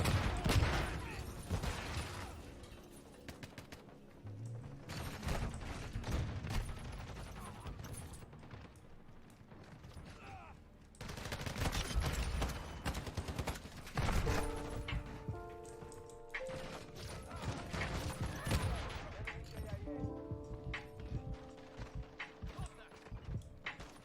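Gunfire in the video game Call of Duty Modern Warfare 2 comes in irregular rapid bursts and volleys, mixed with other busy game noise and some faint talk underneath.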